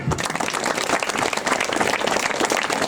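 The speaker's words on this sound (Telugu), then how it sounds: "your teachers clap your hand" Schoolchildren at a government high school in Pedda Munagala clap for their teachers, a dense, loud, sustained round of applause from a large group in a room.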